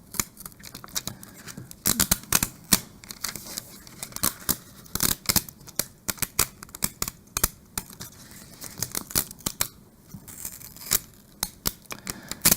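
Vinyl sheet cut on a Cricut being weeded, with a rapid, irregular run of close, sharp peeling and tearing crackles and snaps throughout, no voices.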